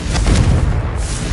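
Confringo blasting spell exploding in the video game Hogwarts Legacy, a short, loud, close boom with a rumbling burst that fills the brief moment, no talk.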